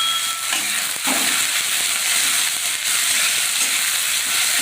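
Potatoes, onion and green chili fry in hot oil with mustard seeds in a pan, a loud, continuous close sizzle and hiss with brief dips as the food shifts, no voices.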